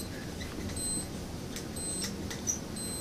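A timer beeps with a few short, thin, high tones repeated over steady room noise during a lecture on synthetic biology.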